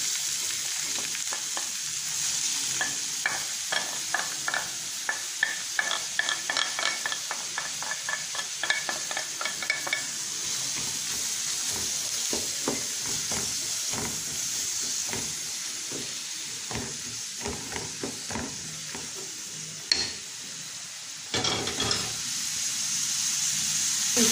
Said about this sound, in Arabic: دابا غادي ناخذ البصله ديالي نشحرها